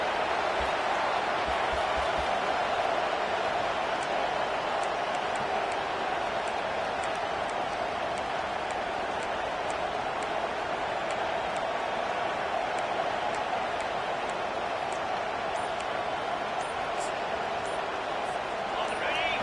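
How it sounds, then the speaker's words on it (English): Steady roar of a large American football stadium crowd after a fourth-down sack, loud and continuous throughout, with a broad wash of cheering noise and no distinct voices standing out. "listen to this crowd coming through"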